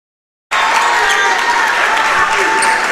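A crowd at a women's junior-college volleyball match erupts into loud, sustained applause and cheering that starts abruptly from silence and holds steady, with a commentator's voice faintly underneath.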